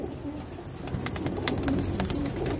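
Pigeons gathered on a rooftop, cooing softly in low repeated calls with a few brief sharper sounds, alone and moderately close over faint background noise.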